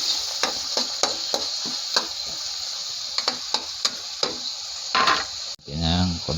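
Garlic, onion and tomato sauté in a pan with a constant bright sizzle, punctuated by regular sharp knocks and scrapes of a utensil against the pan; a voice speaks briefly near the end.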